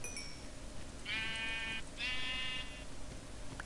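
Two drawn-out sheep bleats from the game Minecraft, one after another, stand out clearly over a faint background hum.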